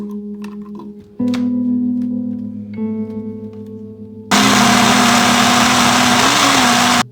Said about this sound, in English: Next, I'm going to grind green chili, onions, and tomatoes.